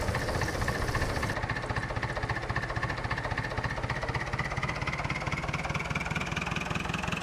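A green tractor idles at a farm in Farming Simulator 2011 during refueling, a continuous close, rumbling engine drone with a fast, even low throb.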